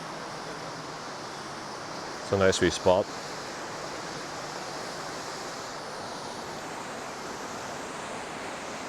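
Waterfall in Northern Ireland flowing strongly, a steady broadband rushing roar that continues unbroken, with someone briefly speaking near the start.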